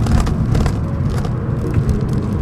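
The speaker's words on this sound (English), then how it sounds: "You have a lot of fun with this car, even though it's a one liter turbo." Opel Adam Rocks small car with a one-liter turbo engine driving, a steady loud engine and road roar with a low rumbling drone throughout, no talking over it.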